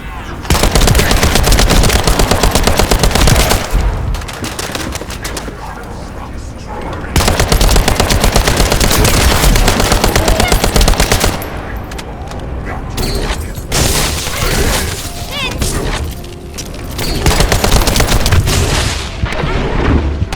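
Sustained automatic gunfire in the video game The First Descendant, loud rapid bursts that pause briefly and resume with heavy booms mixed in, dense and continuous throughout.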